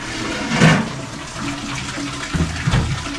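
Hot water splashes and gushes in short bursts, a loud pour near the start and more sloshing toward the end, close by with no talking.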